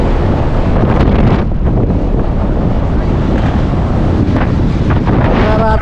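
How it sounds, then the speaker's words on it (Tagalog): Strong wind buffets the microphone at a seaside park in Busan, a loud, constant roaring rush that covers everything for the whole stretch. "Grabe ang hangin mga ka-vloggers"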